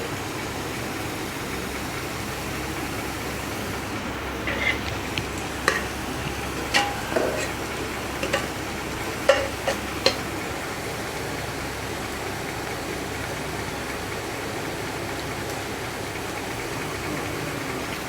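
Bitter gourd slices fry on a tawa with a soft, steady sizzle, a few light clicks and taps of stirring rising briefly midway, quiet and close with no talking.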